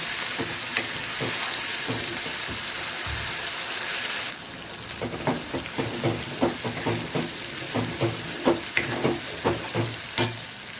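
Garlic and ground masala fry in a pan, a steady sizzle that gives way to rhythmic stirring and scraping with bursts of crackle, close and fairly loud.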